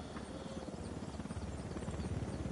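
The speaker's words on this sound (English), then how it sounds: "Helicopter, get down." Helicopter rotor thumping steadily in a video game, a dense rhythmic chop that builds slightly as it passes close by, heard alone without talk.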